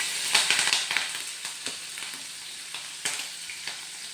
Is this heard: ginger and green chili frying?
yes